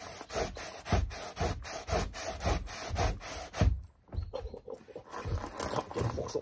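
An unstarted chainsaw is dragged by hand through foam in a home DIY job, making rhythmic rasping saw strokes, about a dozen close scrapes with a brief pause midway.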